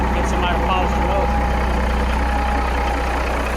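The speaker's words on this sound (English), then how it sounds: "that thing runs so good. Look at it, just sitting here idling." A revived, long-abandoned truck engine idles steadily with a deep, even rumble, loud and close, continuous throughout with a faint higher whine riding on top.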